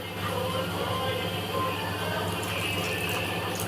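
Water pours into a mixer jar holding churned cream while butter is being separated to make ghee, giving a steady rushing splash. It runs continuously and fairly close, with no voices.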